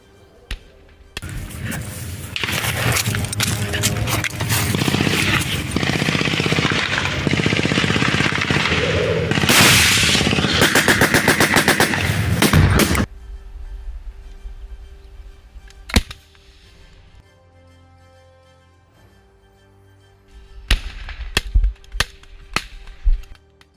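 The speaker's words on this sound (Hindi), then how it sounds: "हमास के लड़ाके इजराइल के सैनिकों पर गोलियां बरसा रहे हैं" Dense, rapid bursts of gunfire from Hamas fighters and Israeli soldiers in Gaza fill the first half, then fall away to near quiet before a few more sharp shots ring out near the end.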